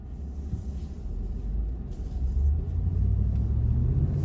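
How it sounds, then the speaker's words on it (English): A 2022 Ford F350 Super Duty pickup with a 7.3 gas big-block V8 drives along, giving a deep rumbling engine note heard from inside the cab that gradually swells louder, with no talking. "We'll go for a little drive and we'll talk about it."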